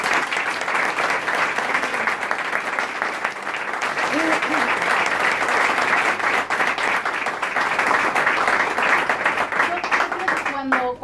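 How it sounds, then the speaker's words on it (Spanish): Steady, dense audience applause at a book presentation in Buenos Aires, a full crowd clapping continuously and loudly throughout. "pero un aplauso para Pau"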